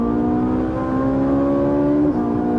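A Ferrari 458 Italia V8 screams at high rpm, a steady sustained wail with strong harmonics that dips abruptly near the end as revs drop, loud and close, with no talk.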